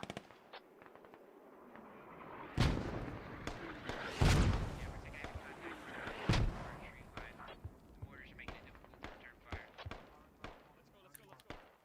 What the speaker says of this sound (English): Rockets coming in firing now from the south.